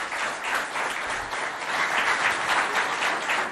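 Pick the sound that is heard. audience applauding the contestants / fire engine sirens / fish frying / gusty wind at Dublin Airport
audience applauding the contestants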